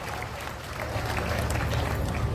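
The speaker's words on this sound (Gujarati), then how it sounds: "એને એકવાર જોરદાર તાળીઓના ગગડાટથી વધાવો" An audience at a large folk dayro gathering breaks into dense applause, with many hands clapping together and the sound building steadily throughout.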